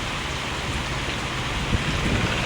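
Heavy rain pours steadily in a dense, loud wash of hiss, with low rumbling undertones suggesting distant thunder beneath the downpour.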